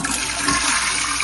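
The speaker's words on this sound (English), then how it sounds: "Flushing beautifully." A toilet flushes in a single steady broadband rush of water, close and loud, tested after a drain unblocking job.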